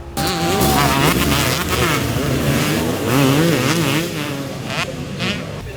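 Several two-stroke motorcycle engines, including a Husqvarna 125, rev and buzz loudly together at a vintage motocross event at Foxhill, pitches rising and falling in overlapping waves, with crowd voices faintly underneath.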